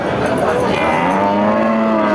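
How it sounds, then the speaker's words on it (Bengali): A Sindhi breed cow, about two years old, at a cattle market gives one long, loud, close moo that rises and holds steady, with no voices over it. "সিন্ধি জাতের একটা গরু আপনারা দেখতে পাচ্ছেন"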